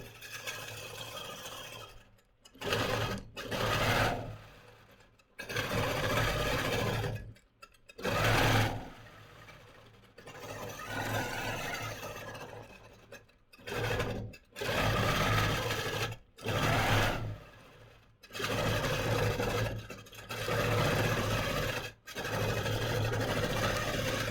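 A longarm quilting machine stitches a curly Q filler pattern on a quilt, its steady whirring hum running in about ten bursts of a few seconds each, separated by short pauses.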